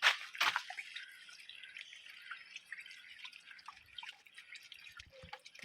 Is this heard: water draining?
yes